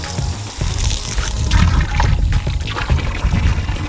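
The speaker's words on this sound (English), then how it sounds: "I'm just gonna go turn on the hose to fill the cow water real fast" Garden hose running into a cow water trough on a farm, a steady close rush and splash of pouring water throughout.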